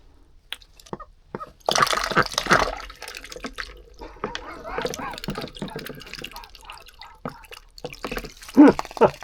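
Farm ducks splashing and dabbling in water on a snowy winter farm, with irregular drips, slaps and sloshes, some louder bursts near the start and end, while a person talks between them.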